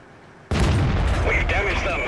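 A tank gun fires a sniping shot in a tank video game: silence, then a sudden loud boom that rolls on into a rumbling, ringing aftermath.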